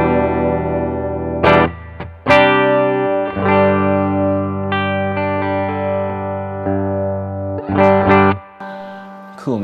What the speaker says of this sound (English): This is clean on the bridge pickup.